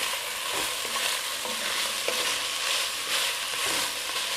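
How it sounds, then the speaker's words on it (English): Chopped onion frying in a cooking pot, a continuous close sizzle broken by soft scraping stirs, no voices. "So I've chopped up that half of that big onion. Put that on in there. Get that mixed in."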